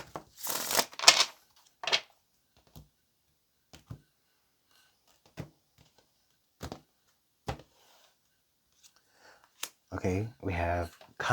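A deck of tarot cards is shuffled in short, loud riffling bursts at the start and near the end, with scattered faint clicks and taps in the quieter stretch between.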